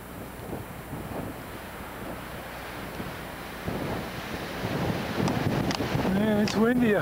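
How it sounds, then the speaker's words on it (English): Steady wind buffets the microphone with a dense roar at the top of the Bright Angel Trail, building toward the end, where a voice begins speaking over it. "Man, it's windy up here."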